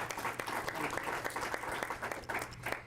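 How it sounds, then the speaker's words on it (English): A live audience applauds at a University of New Hampshire athletics announcement introducing a new director of skiing, a steady dense wash of clapping that carries through the whole moment without pause. "clap for that"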